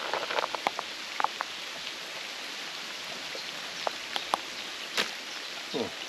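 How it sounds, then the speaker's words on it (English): Steady patter of rain falling on a camera outdoors at a summer carp fishing lake in England, a dense hiss with scattered sharper drops tapping close to the lens, no voices. "Sorry about the rain on the camera"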